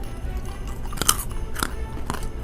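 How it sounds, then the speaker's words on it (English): Sugar-coated almond clusters glazed with icing sugar and water, bitten and crunched close up in a few sharp crisp cracks followed by quieter chewing, with no voices. "Good crunch."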